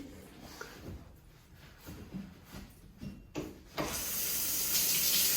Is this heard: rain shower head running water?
yes